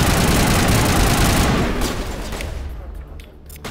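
Rapid gunfire from the Lancer assault rifle in Mass Effect 1 Legendary Edition, a loud continuous burst of shots that fades and thins out toward the end, close and dominant.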